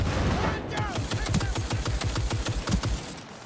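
Rapid gunfire from a shooter weapon in the video game Dragon Age: Inquisition, a loud, steady burst of shots firing in quick rhythmic succession for several seconds.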